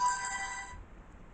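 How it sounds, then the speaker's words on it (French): A mobile phone sounds a ringtone or notification at a table during Easter card crafting, a steady bright electronic tone that holds for under a second and then cuts off, leaving faint room noise. "Non, je crois que c'est le GSM qui a fait."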